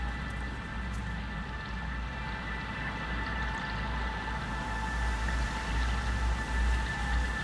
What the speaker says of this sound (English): We got a waterfall going back there.